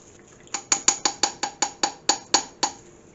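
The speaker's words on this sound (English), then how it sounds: "Let's give it a stir here." A spoon knocks against a slow cooker crock while stirring corn casserole, making about a dozen close, crisp clinks in a quick, even rhythm with no talking.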